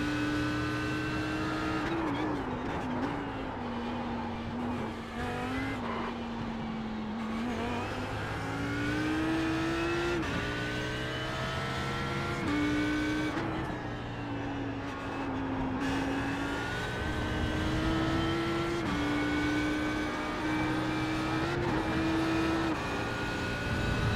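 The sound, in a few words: race car engine in a video game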